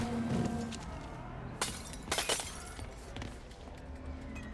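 Liquor bottles smash one after another inside Cyberpunk 2077, with a few sharp glass crashes clustered in the middle that ring out over steady game ambience.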